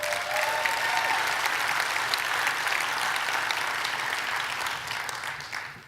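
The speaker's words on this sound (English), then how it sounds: "I just want to ask for one more round of applause for the incomparable Jeremy Aguero." Conference audience at Preview Las Vegas 2019 giving a round of applause, steady many-handed clapping that holds evenly, then thins and fades toward the end.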